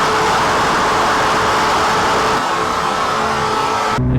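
A Kawasaki H2R motorcycle running on race fuel tears along at high speed, its loud, steady engine roar mixed with heavy rushing wind noise that cuts off abruptly at the end.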